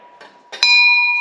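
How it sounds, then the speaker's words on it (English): An original 1930s-era mechanical doorbell gives a couple of soft preliminary taps, then one loud, clear metallic ding that rings on with a long, sustained decay. "I have this 1930s era doorbell"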